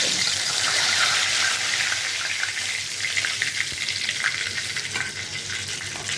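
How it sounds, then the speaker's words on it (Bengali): A bay leaf hits hot oil in a pan, giving a loud, steady frying hiss with some crackle that settles slightly over several seconds. "তেলটা এখন গরম হয়ে গেছে, দিয়ে দিলাম হচ্ছে তেজপাতা"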